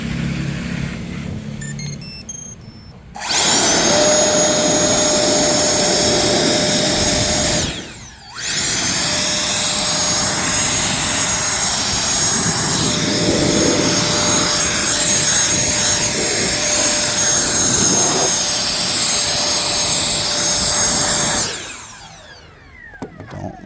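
A cordless leaf blower drying a car, running loud and steady for about eighteen seconds with one short break midway, a constant high whine over a broad rushing roar, with no talking.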